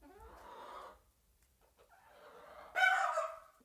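Leghorn chickens clucking and calling close by, two bursts of hen vocalizing separated by a short quiet gap, the second louder and sharper, with no talk.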